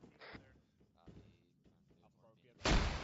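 A fragmentation grenade detonates during a military urban-terrain training exercise, one loud, sharp blast close by near the end, after stretches of shouted voices.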